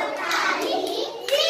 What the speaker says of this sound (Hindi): बच्चों बजाओ ताली